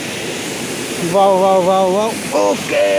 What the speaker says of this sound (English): this is the very part of the waterfall